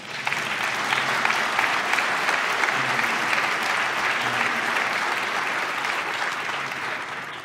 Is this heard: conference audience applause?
yes